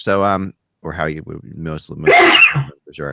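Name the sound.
sneeze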